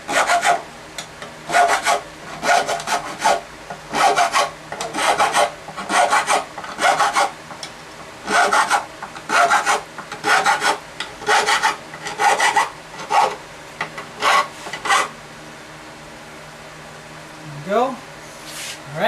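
A metal file rasps across guitar fret ends in repeated short back-and-forth strokes, loud and close, with brief pauses between groups of strokes.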